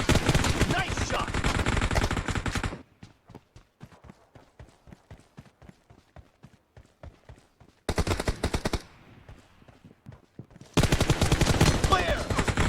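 In the mobile game PUBG Mobile, rapid gunfire rattles in loud bursts, with a long run of evenly spaced single shots between the dense volleys.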